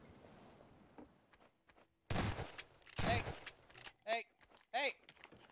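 Gunfire in the video game Prop Hunt, a scattered string of short sharp shots and bursts, loud and close, interspersed with brief in-game noises and near-silent gaps.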